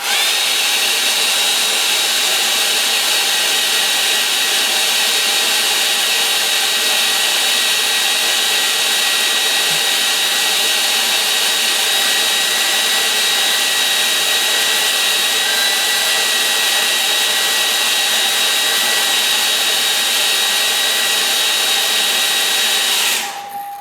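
A hair dryer blows on a watercolour painting of an old oast house, a loud, steady, high-pitched whirring drone that runs unbroken for over twenty seconds before cutting off abruptly at the end.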